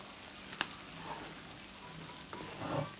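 Faint sizzling as tomato juice and stewed vegetables for borscht dressing are poured into a hot pot, a soft, steady hiss with a few small clicks and stirring sounds, without speech.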